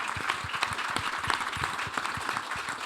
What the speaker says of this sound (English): So I wanted to give my good friend for some 3 decades, Eric Ola, a special round of applause.